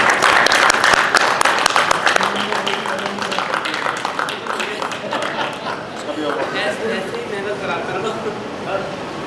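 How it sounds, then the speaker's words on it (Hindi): An audience at an awards closing ceremony in Agra claps steadily. The dense applause is loudest at the start, then eases slightly and carries on with scattered talk and chatter mixed in. "तालियां बजनी चाहिए इनके लिए भी।"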